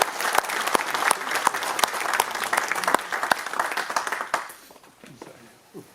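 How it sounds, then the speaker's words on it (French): An audience at a public campaign meeting before a second-round election claps in a dense, loud burst of applause that holds steady, then fades away over the final seconds. "Mesdames et messieurs, on peut à nouveau applaudir."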